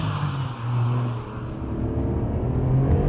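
A Ferrari 575M with 507 horsepower, heard from inside as it pulls hard, a loud, sustained engine roar that rises and dips as it accelerates, with no talk.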